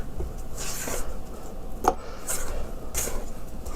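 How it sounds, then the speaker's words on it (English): A spatula scrapes a beaten butter and sugar mixture around a mixing bowl for pound cake, giving a few soft, close rubbing scrapes with one sharper knock near the middle, alone without talk. "I'm scraping to make sure everything is, being combined."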